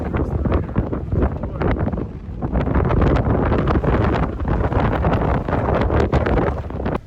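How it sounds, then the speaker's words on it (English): Strong, gusting wind in Moab, Utah, roaring and buffeting loudly and continuously against the microphone, with rustling and flapping throughout and no clear talk. "that is the worst wind I have ever seen in Moab"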